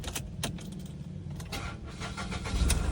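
A 2019 Ford EcoSport second generation starting up: a brief jangle of keys and clicks, then the engine cranks and catches, its idle swelling louder near the end.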